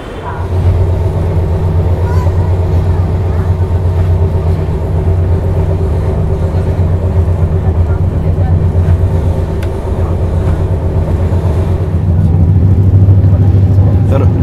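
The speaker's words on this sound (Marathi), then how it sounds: "2 मिनिटं लेट गाडी आपली निघाली आहे प्लॅटफॉर्म नंबर 4वरून" The Pune–Amravati Express pulls out of platform 4, heard as a steady, loud low rumble and engine hum that holds evenly throughout with only slight swells.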